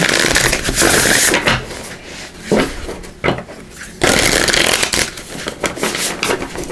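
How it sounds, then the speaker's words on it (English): A deck of oracle cards is shuffled in several bursts of dense riffling and rustling, close and fairly loud, separated by short pauses. "I'll give these a good shuffle."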